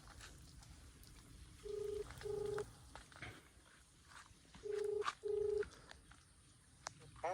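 Outgoing phone call ringing through in a rural village, two pairs of electronic ringback tones separated by a pause, fairly faint over a quiet outdoor background with soft rustling.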